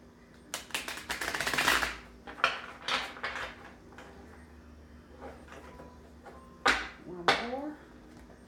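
A deck of tarot cards is shuffled in riffling, papery bursts, a long flurry first and then several shorter shuffles with pauses, while a voice talks between them.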